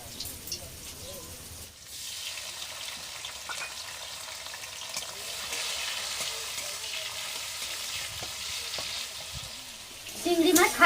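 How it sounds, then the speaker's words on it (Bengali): Prawns seasoned with a little salt and turmeric fry in oil in a wok, giving a steady close hiss and crackle with occasional stirring clatter, swelling louder near the end. "আর এই কড়াইতে আমি কুমড়োর জন্য চিংড়ি মাছগুলোকে ভেজে নেবো"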